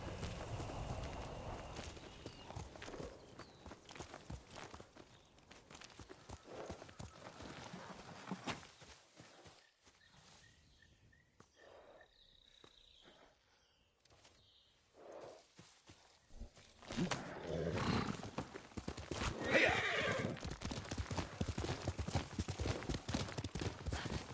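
Horse hooves clip-clop in the video game Ghost of Tsushima, a steady walking beat, fading to quieter ambience midway before louder hoof falls and movement return; a faint whinny may be present.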